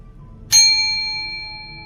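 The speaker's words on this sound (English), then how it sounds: "So I'm gonna do the first chime as always. The first chime is for just to center the room," A meditation chime is struck once, ringing out with a sharp, bright onset and a clear, pure tone that fades slowly and lingers in a quiet room.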